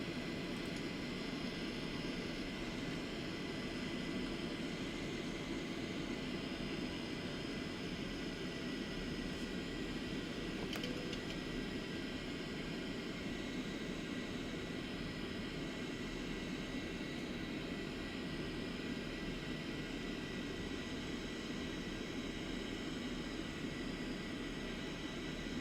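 Steady aircraft engine drone inside the X-Plane flight simulator game, a constant broadband roar holding at even loudness for the whole stretch, with no voices over it.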